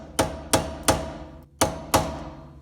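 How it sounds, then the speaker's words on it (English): A hammer strikes five times in a steady rhythm, staking the rear wheel hub nut into its groove on a 2007-2013 Honda Fit; the sharp metallic blows ring close and loud with no talk. "Now I need to stake the nut in the groove so it doesn't come loose."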